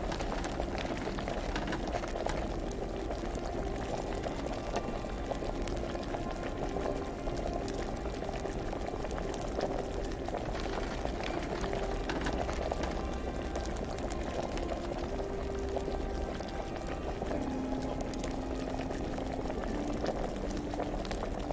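A pot of liquid bubbling at a full boil in Kingdom Come Deliverance, a steady dense burble and hiss that stays even and close throughout, with no voices over it.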